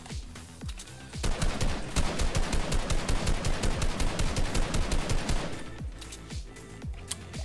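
Sniper rifle gunfire in the Fortnite video game during a competitive Arena match, a dense run of sharp, loud shots in quick rhythmic succession, with a few scattered reports before and after the main burst.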